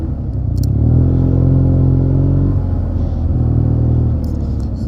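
Yamaha TMAX 560 maxi-scooter fitted with a Termignoni exhaust and Malossi variator, ridden on light throttle in town, giving a steady, close, low engine drone with a gentle rise and fall in pitch.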